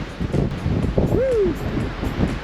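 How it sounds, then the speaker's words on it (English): Wind gusts across a hilltop lookout on Oahu, making a steady low buffeting rumble on the microphone with a short whistling chirp partway through. "It's a bit windy."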